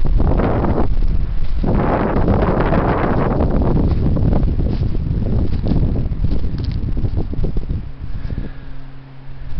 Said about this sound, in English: gentle rolling hills that are blasted by wind, as you can hear on the camera